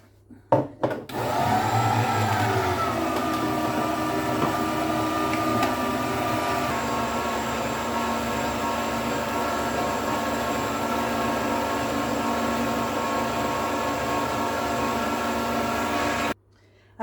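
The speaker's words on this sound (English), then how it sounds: "this is going to go through the juicer again, just so we can squeeze out any more cream that can come out" Coconut pulp runs through an electric juicer to press out coconut cream. After a brief clatter the motor settles into a loud, steady whirring drone that lasts about fifteen seconds and then cuts off abruptly.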